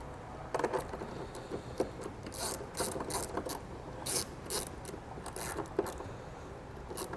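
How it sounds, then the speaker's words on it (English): Ratchet with a 3/8 socket tightening a nut while installing a Roadmaster battery charge line kit on a towed vehicle, giving repeated quick clicking bursts in an uneven rhythm, close and fairly quiet. "this is actually going to be tightened down with a 3/8 socket"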